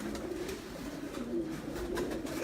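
Pigeons cooing on a rooftop loft, a soft, steady run of low throaty coos over a constant outdoor background hiss.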